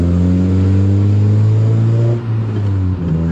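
A 9th-generation Honda Civic Si with an aftermarket exhaust pulls hard after a gear shift, a loud, steady droning engine note with clear harmonics that dips briefly mid-way before climbing again, heard from inside the car.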